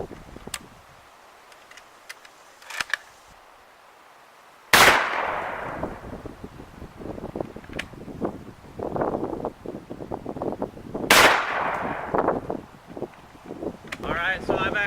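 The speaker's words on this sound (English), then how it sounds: "I've actually shot twice so far and missed both times" Two loud, sharp gunshots from S&B 196 grain FMJ rounds fired at a target of pocket change backed by wood crack several seconds apart outdoors, with wind rumbling on the microphone and people talking between shots.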